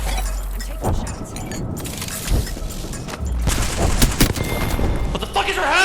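Gunfire in the video game Apex Legends: dense, continuous bursts of shots and booms over game noise, fairly loud throughout, with sharp cracks standing out and the firing growing heavier toward the end.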